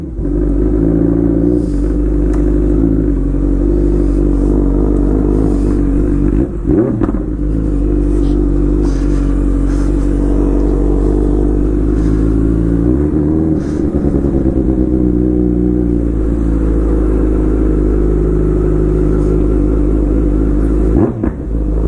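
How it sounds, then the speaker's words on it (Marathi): A motorcycle engine runs loud and steady for over twenty seconds, a deep continuous rumble with a few brief blips where the throttle shifts, close to the listener. "आवाज बहुत तगड़ा है अपने गाड़ी का।"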